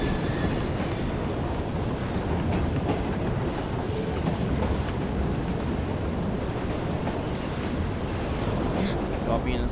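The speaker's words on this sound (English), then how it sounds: "Got me inside of a train" Inside a moving train, a steady roaring rumble of wheels and carriage noise fills the whole stretch, dense and unbroken, with faint rattles on top.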